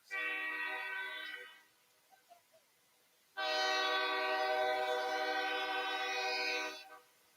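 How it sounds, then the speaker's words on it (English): A train horn sounds in the distance beside a girls' high school soccer match at Brockway, with two long sustained blasts, the second louder and longer, echoing across the field, and no voices are heard. "The train echoes in the distance."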